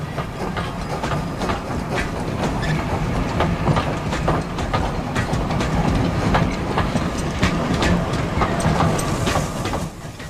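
A steam locomotive departs with a train, rolling steadily past with a rumbling low drone and repeated clickety-clack of wheels over rail joints, continuous and fairly loud throughout.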